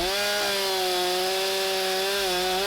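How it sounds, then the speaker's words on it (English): A chainsaw cutting a fallen tree off a 4WD track in New Zealand's Central Plateau, a loud, close, high-revving buzz that holds a steady whining pitch with slight wavering throughout. "out came the chainsaw, and the tree was cleared from the track in no time"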